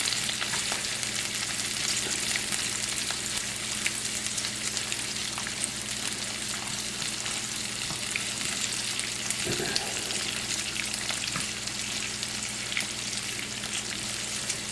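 Halved cherry tomatoes sizzle steadily in a hot pan with bacon, a dense, even crackle that holds for the whole stretch, with one soft clunk midway and no voices.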